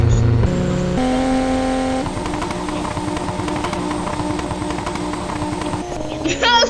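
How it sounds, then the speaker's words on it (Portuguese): A car engine turns over and settles into a steady idle hum with a rising whine, close and continuous, ending in a brief rev. "vou ligar o carro aqui"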